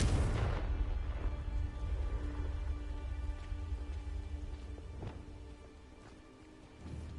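The Confringo explosive spell in Hogwarts Legacy lands as a single loud booming blast at the start, then decays into a long rumbling tail with faint scattered pops.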